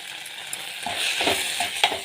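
Tomato with grated coconut and coriander fries in a pan for a chapati side dish, a close sizzle rising in the middle with a few clinks and scrapes of stirring and no voices.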